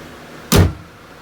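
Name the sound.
car hood being closed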